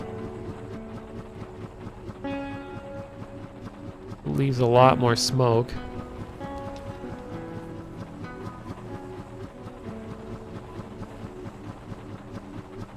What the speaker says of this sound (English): It makes like an idling sound while it's moving.